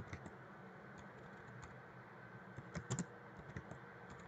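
Typing on a computer keyboard at a desk, quiet scattered key clicks in short irregular runs, soft and close with no voices.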